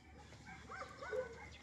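Dog on a farm property barking and yelping faintly in the distance, a few short irregular calls over quiet outdoor background.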